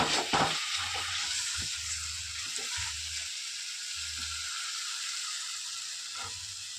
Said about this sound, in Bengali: কচু পোড়া কীভাবে কষানো হয় দেখো না